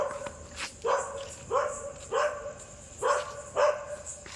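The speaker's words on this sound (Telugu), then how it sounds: "కుక్క తులసి అని నాకు తెలుస్తుంది" A labrador named Thulsi barking, seven or eight separate barks in an uneven rhythm, fairly close against quiet outdoor background.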